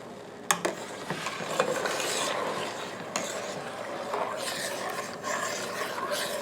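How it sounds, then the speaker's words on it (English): Pectin being stirred into boiling peach juice and lemon juice for peach pit and peel jelly, a steady close rasping scrape of a spoon against the pot with a few sharper knocks, continuous and fairly quiet throughout. "I need to put in here, stir up and dissolve it."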